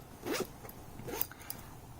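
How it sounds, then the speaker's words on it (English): A zipper drawn closed on a case packed with essential oil bottles, including a 30 ml bottle that sticks out, giving a couple of short, close rasping pulls with a brief pause between them. "It sticks out when I zip it"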